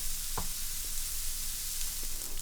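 Salted beef sizzles steadily in a frying pan, a dense continuous hiss with a couple of faint stirring clicks, close and loud, no talking.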